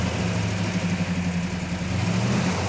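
A rare Hemi GTX convertible idles steadily after starting, a continuous low rumbling engine note with a slight waver, close and loud, with no talk.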